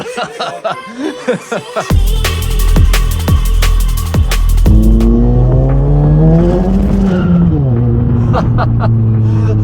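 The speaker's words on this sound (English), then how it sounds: "Even with the anti-lift kit and some good tires, this thing is spinning up, man." A Stage 3 VW Scirocco accelerates hard with its wheels spinning, giving a loud, close engine roar that climbs in pitch through gear changes. It follows a few seconds of chuckling and voices.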